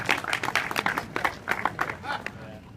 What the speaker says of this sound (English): give DJ a round of applause